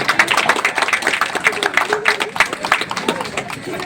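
Applause rings out at a rainy monsoon marathon prize ceremony in Rangat, a dense steady patter of many hands clapping close by, with crowd voices mixed in throughout.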